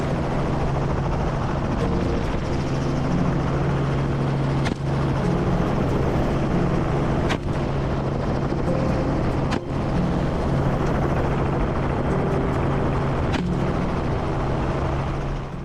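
A helicopter flies over farmland and dense forest during wild hog control, its droning engine and rotor hum steady and loud throughout, with a few brief thumps.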